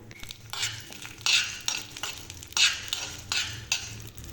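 Chana dal and urad dal frying in hot oil in a kadai, bursts of crackling sizzle rising each time a spoon stirs and scrapes the pan, roughly every second, close up.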